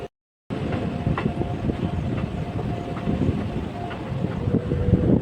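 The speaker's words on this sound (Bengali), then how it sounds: "ট্রেনটি দেখতে পাচ্ছ এখান থেকে ছেড়ে দিল আমাদের" The Rani Shiromoni Express pulls out of the station, a loud, steady rumble of rolling wagons with gusty wind noise on the microphone, continuing without talk.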